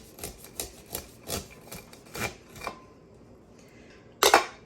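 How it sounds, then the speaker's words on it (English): Corn kernels being sawn off the cob with a blunt pan: a series of soft, rasping scrapes in an uneven rhythm, close and fairly quiet, followed by a brief sharper scrape near the end. "I'm just sawing off all the corn."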